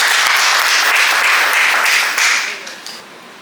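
A crowd gives loud, dense, sustained applause at a civil wedding ceremony in a town hall mairie in Djambala, and it tapers off toward the end.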